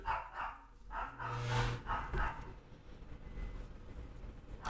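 A dog barks several times in short, moderately loud bursts with a pause between them. No one speaks over the barking.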